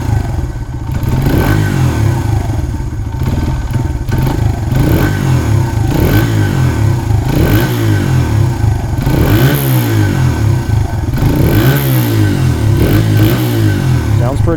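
A Honda XR100 motorcycle engine running for the first time in 17 years, with a loud close idle and repeated throttle blips that rise and fall, some rattling clatter, and a voice talking over it.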